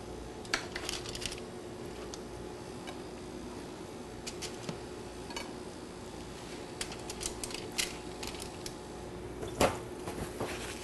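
Summer squash slices set down one by one on a metal pan in a kitchen, giving a series of light clinks and taps spread irregularly over a low background hum.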